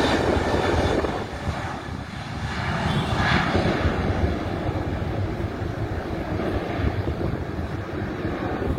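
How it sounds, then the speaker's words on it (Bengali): A US-Bangla airliner takes off from the runway at Dhaka airport, heard from close by as a loud, continuous engine roar with rumbling low end and some wind buffeting, alone without voices. "আমি একটু কথা না বলে আপনার বিমানটি দেখুন আর বিমানের শব্দটি শুনুন।"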